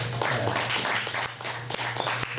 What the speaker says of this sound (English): let's give another round of applause for Isaac Zavala